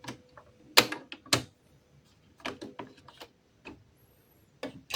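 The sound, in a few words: opening the carriage cover of an Epson printer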